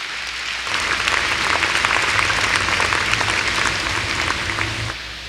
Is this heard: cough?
no